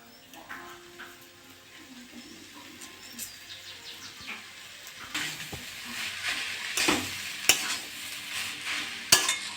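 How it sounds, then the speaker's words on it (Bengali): Boiled potatoes are stirred into a sizzling vegetable chop mixture of cabbage, cauliflower, beetroot and carrot in a pan, with soft scraping and frying hiss that grow louder, punctuated by a few sharp utensil knocks. "আলুটা আমি ভালো করে মিশিয়ে নেবো।"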